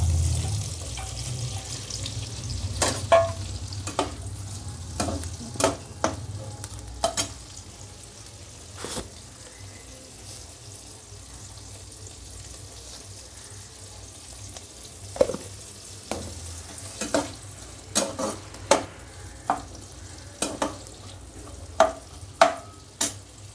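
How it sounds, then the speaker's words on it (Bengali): Capsicum and onion stir-frying in a pan: a low, steady sizzle runs throughout, broken by a series of sharp spatula scrapes and clicks against the pan, clustered in bursts near the start and toward the end, with no talking. "এবার ক্যাপসিকাম আর পেঁয়াজটা একটু ভেজে নেব।"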